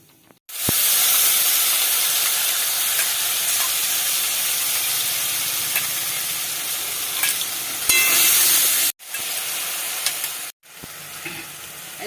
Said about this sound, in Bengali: জিরে ফোড়ন দিলাম, গোটা জিরে, দুটো তেজপাতা দিয়ে দিলাম,